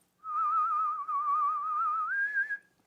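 Whistled note with tongue vibrato, a single sustained tone wavering rapidly in pitch for a couple of seconds before stepping up slightly at the end, close and clear.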